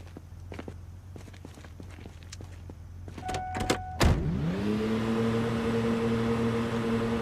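Truck in Project Zomboid, footsteps and clicks followed by a sharp start-up, then a steady low engine idle that hums on evenly and close.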